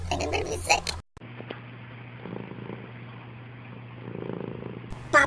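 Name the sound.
cat purring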